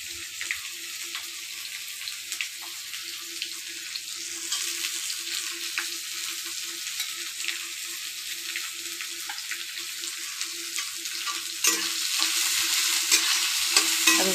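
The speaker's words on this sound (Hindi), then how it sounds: "अब इसको अच्छे से हम भून लेंगे।" Chopped onions and whole chillies fry in a hot pan with a steady crackling sizzle, broken by scraping stir strokes; the sizzle swells louder near the end, with no one speaking.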